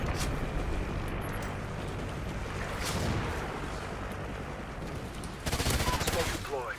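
Rapid automatic gunfire from the video game Strikezone, a dense continuous crackle of shots that swells louder near the end, with a player's voice talking over it.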